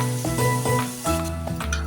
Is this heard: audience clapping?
no